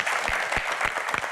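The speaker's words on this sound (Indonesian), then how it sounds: "tepuk tangan hadirin sekalian." Audience applause at a televised panel event in Indonesia, a steady dense wash of clapping that fills the short moment without pause.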